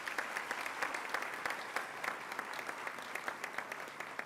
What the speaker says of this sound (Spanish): Que se repita el aplauso.